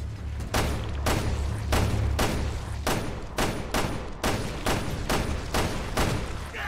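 Rapid bursts of gunfire from the video game Resident Evil Revelations 2 crack out in a fast, fairly regular run of loud, close shots.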